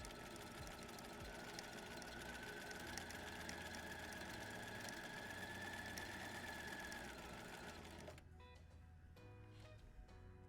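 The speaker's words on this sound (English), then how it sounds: "But I'll complete that stitch, making sure my uptake lever is all the way up, and then I'll change to 6." A sewing machine runs steadily while stitching a buttonhole, a continuous close mechanical whir with a faint rising hum, stopping abruptly near the end and leaving a quieter room.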